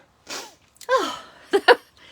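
A single sneeze with a sharp breathy onset, followed by a couple of short gasping or throat-clearing sounds, close to the mic in a quiet room during a quilting demonstration.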